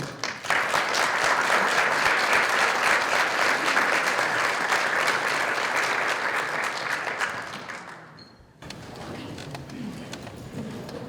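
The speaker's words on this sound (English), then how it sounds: "please join me in welcoming to the podium our fabulous guest speaker today" An audience at a women leaders' featured-speaker gathering breaks into sustained, loud applause to welcome the guest speaker. The clapping runs for about eight seconds, fades away, then gives way to a quieter room with scattered sound.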